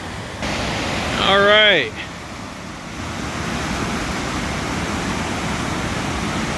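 River water at Nehalem Falls, Oregon rushes in a steady, broadband roar close by, continuous throughout, with someone briefly speaking over it near the start.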